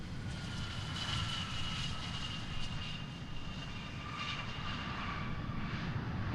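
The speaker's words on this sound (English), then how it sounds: "There goes the reversers." A private jet on landing at Boeing Field with its thrust reversers deployed, giving a steady, broad roaring rush of engine noise with a high whine, sustained and fairly close throughout.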